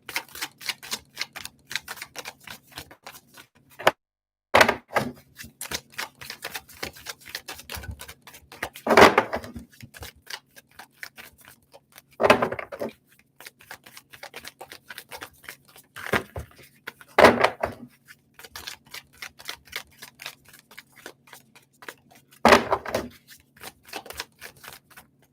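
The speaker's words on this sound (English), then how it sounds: "so I'm going to keep shuffling" A deck of tarot cards being shuffled gives repeated crisp riffling flutters and snapping card clicks, with several louder bursts spaced a few seconds apart among steady light ticking, close by and without talk.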